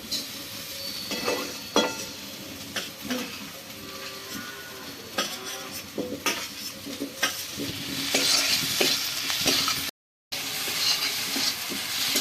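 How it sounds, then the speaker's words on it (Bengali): Potato and carrot sautéing with Kashmiri chilli powder and spices in a pan, a continuous loud sizzle with repeated spatula scrapes and stirs close up, no talking. "আলু গাজরটা দেওয়ার পর বেশ কিছুক্ষণ কষিয়ে নিয়েছি"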